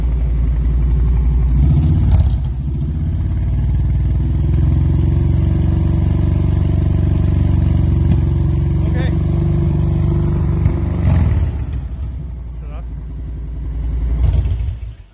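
A Kawasaki motorcycle with a Sharkroad baffle revs loudly and holds a steady high idle around 3,000 RPM, with a brief dip and surge midway and again near the end.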